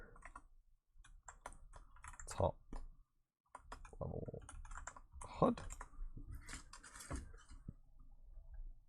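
Keyboard typing on a computer keyboard tented up on one half, irregular close clicks and clatter running under a man's speech.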